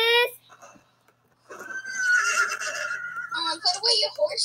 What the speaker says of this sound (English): But we can still hear the horses.